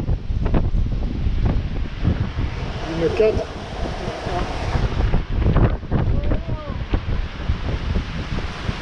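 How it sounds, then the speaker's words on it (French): Strong wind of about 31 knots on a sailboat at sea in the Gulf of Patras, gusting buffeting noise over the microphone with splashing water and creaks, loud and close, with brief speech. "31 nœuds de vent là"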